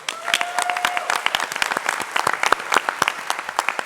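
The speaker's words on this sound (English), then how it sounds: "All right, let's give Ari a final round of applause." An audience at a pitch competition applauds steadily, a dense patter of many hands clapping at once, fairly close and sustained throughout.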